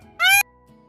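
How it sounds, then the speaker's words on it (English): A peacock gives one loud, drawn-out wailing call that sounds rather like a cat's meow. It lasts about a quarter second, up close, with near silence around it. "peacock,"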